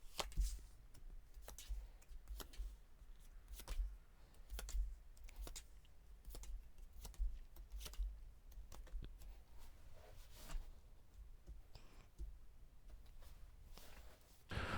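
Tarot cards being drawn and shuffled close up, a steady patter of soft slaps and flicking clicks over a low room hum, with no one talking.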